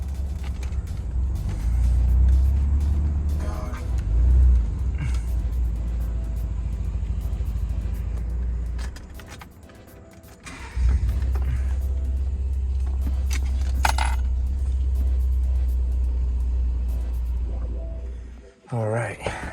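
Gen2 Ford Raptor pickup on a Ready Lift 3-inch suspension rolling into a garage and parking, a close, heavy low rumble that dips near the midpoint, then swells again before cutting off at the end.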